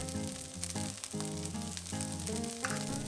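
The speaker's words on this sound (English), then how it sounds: "Stir fry for about 2 minutes until the onions are softened" Chopped onions stir-fry for Thai chicken fried rice, giving a steady close sizzle under prominent background music.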